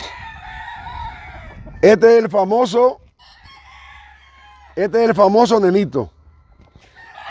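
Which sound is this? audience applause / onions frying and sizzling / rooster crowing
rooster crowing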